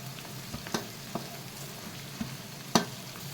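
Onion, green chilli and tomato fry and sizzle in a pan for a goat pancreas curry, with a steady soft crackle broken by a few sharp clinks and scrapes of stirring, close and fairly quiet.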